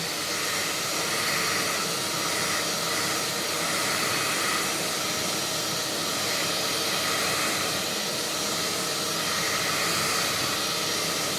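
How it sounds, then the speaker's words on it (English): Steady airy whoosh of a hair dryer running continuously at an even level, with a faint high whine and no talking. "just use the hair dryer. Same hair dryer."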